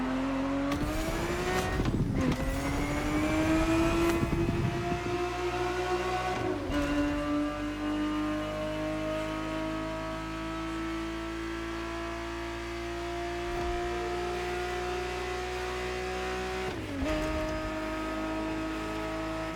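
A Ferrari 365 GTB4 engine in The Crew Motorfest racing game drones loud and steady, with sharp revs and gear shifts early on and again near the end, plus brief tire noise.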